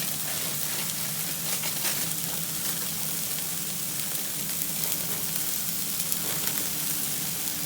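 Onions fry with Cajun seasoning in a pan, giving a steady, close sizzle that keeps an even crackle throughout with no break.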